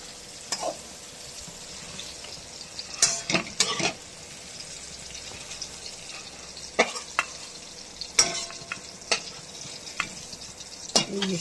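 Shrimp frying in hot oil with a steady sizzle, as a utensil scrapes and clinks against the pan in bursts while pieces are stirred and lifted out one by one.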